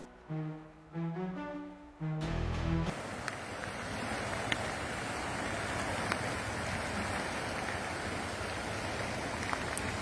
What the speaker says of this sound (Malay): cuaca keadaan hujan masih hujan renyah-renyah lagi ketika ini